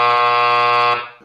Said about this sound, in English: let's play the long buzzer